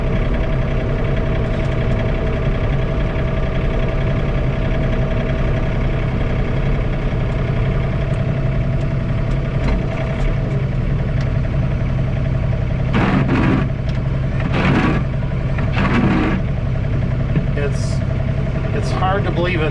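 A John Deere 3046R compact tractor engine heard from inside the cab during a blizzard with blowing snow, a steady loud drone that fills the whole stretch, with occasional louder bursts and someone talking over it.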